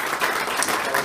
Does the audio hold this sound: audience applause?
yes